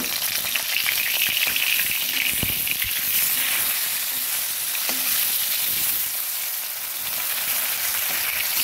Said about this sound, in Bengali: এভাবে হালকা হাতে উল্টে পাল্টে মাছগুলো ভেজে নেব।